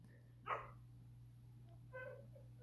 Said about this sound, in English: There always has to be some kind of dog barking, doesn't there?